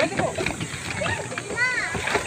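A person jumps into clear sea water at a beach, making a splash under near, continuous speech from people close by.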